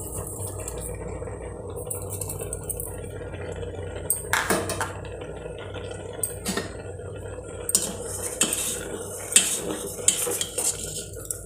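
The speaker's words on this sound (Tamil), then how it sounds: "நல்லா இந்த மாதிரி கிண்டி விட்டுக்கணும்" Sweet pongal with jaggery and cardamom being stirred in a pot for a Pongal festival meal, a spoon scraping and clinking against the metal in irregular bursts over a low steady background.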